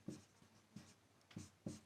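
Pen or chalk writing notes during a Class 10 chemistry lesson on chemical reactions, heard as four quiet scratchy bursts at a steady rhythm, close and soft, with no talk.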